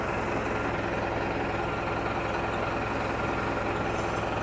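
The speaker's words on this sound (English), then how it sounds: "We're back to where we began at the train bus. It's about to take off again." The engine of the Old Rauma train bus running steadily before departure, a loud continuous low rumble and drone heard close by without interruption.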